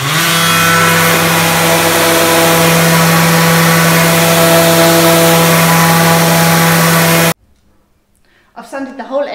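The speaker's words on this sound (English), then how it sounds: "I've got a round sander with a paper 80." A round sander fitted with 80 grit paper works across a wooden table top, giving a loud, steady motor whine that cuts off abruptly near the end, followed by a moment of quiet and brief speech.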